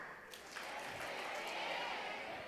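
Applause from a summit audience swells steadily, a brief round of clapping that stays fairly soft and diffuse throughout.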